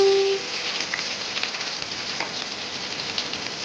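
Chopped onions fry in oil in a pan, a soft steady sizzle with light crackles that carries on alone after a short tone at the start.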